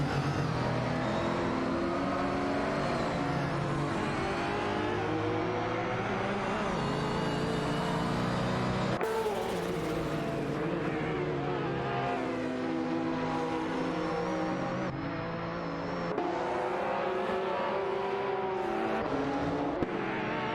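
Jaguar XJ220 and McLaren F1 race cars roar through a racing game, engines whining and revving with rising and falling pitch, several motors layered together, loud and continuous without speech.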